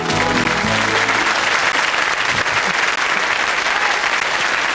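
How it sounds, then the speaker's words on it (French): A large crowd applauds and cheers wildly for the French TV pop group Hélène et les garçons, with dense, steady clapping that stays loud and continuous from start to finish. "Cette foule en délire"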